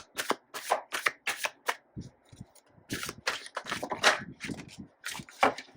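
Tarot cards shuffled by hand at close range in repeated quick riffling bursts with brief pauses between, no talking.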